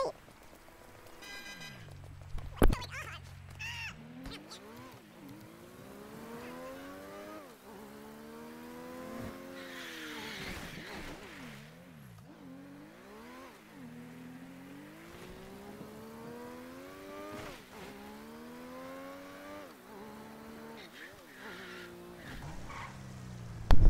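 A car in the video game GTA 5 drives along with a rising and falling engine whine and tire skids, set against a constant rain-like hiss with a few sharp knocks.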